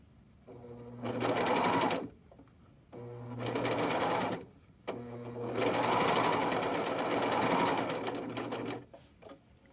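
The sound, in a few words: serger (overlock sewing machine) sewing fabric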